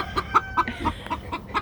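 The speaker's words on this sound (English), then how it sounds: "There's a hen in the back corner laying." Hens clucking in a farmyard pen, a run of short, evenly spaced clucks close by, with faint background noise.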